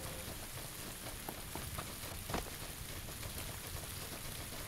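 Steady rain in PlayerUnknown's Battlegrounds, a dense even hiss of drops pattering on surfaces with a few sharper ticks, continuous and fairly loud with no talk.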